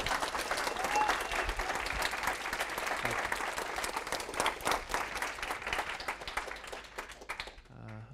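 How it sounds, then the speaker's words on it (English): A student audience at a Young Americans event applauds a speaker after a talk on Trumponomics, the steady crowd clapping filling the room for about eight seconds before fading near the end. "let's give him another round of applause."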